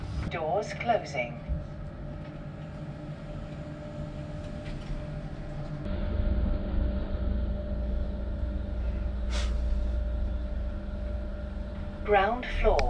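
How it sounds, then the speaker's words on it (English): A hotel lift descends to the ground floor, giving a steady low mechanical hum and rumble that deepens about halfway through, with a few brief chime-like tones and a voice briefly audible near the end. "This lift is going down."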